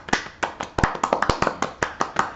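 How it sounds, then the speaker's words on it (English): Slow, deliberate golf clap from one or two people, about a dozen crisp, close hand claps in a steady rhythm, loud and dry with nothing else underneath. "Let's give him a golf clap now."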